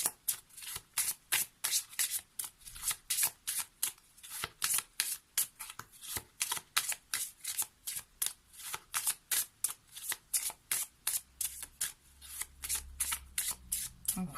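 Oracle cards for a feather-themed card reading are shuffled by hand close up, a steady run of crisp, rhythmic riffling bursts repeating evenly throughout with no voices.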